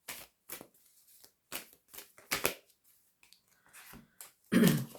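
Tarot cards are shuffled and drawn by hand in a series of short, close, crisp riffling and slapping bursts separated by brief quiet gaps, ending in a louder flurry.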